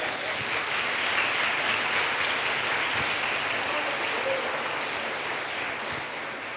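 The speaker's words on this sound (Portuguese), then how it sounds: "Vamos aplaudir o Senhor, amém?" A church congregation applauding, a dense, steady wash of clapping from many hands that fills the space evenly for several seconds, full and fairly loud.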